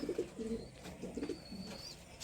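Pigeons kept at a home loft coo softly in short, repeated throaty phrases, with faint chirps and background noise and no speech.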